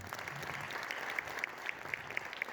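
An audience at an Ethiopian stage event applauding, a light steady patter of clapping heard from a distance at low volume, with a few sharper individual claps standing out.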